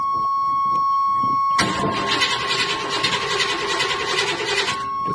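An old car cranks and its rough engine catches after a brief starter whir, then runs loudly and unevenly at close range, with a steady whine underneath.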